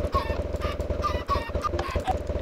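Several chickens cluck and squawk close by in Minecraft in short repeated bursts over a steady low hum, with no talking.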